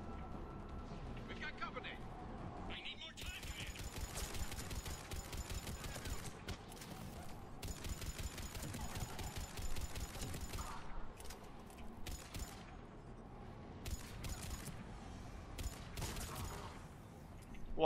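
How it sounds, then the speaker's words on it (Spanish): Explosive gunfire in Mass Effect 3 combat, with rapid bursts of shots and blasts running through the whole stretch, heard under excited Spanish commentary from a player. "el disparo explosión del James es la polla"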